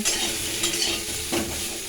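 Steady oily sizzling of potatoes and cauliflower frying in a pan, with a few scraping stirs and light utensil clinks, close up and continuous.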